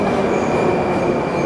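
A train passing close by on a rail line, a loud, steady rumble of wheels and carriages that holds constant throughout with no talking over it.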